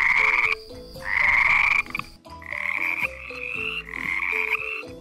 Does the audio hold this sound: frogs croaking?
yes